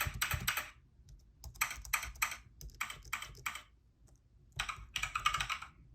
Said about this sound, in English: Now you have a free mechanical keyboard.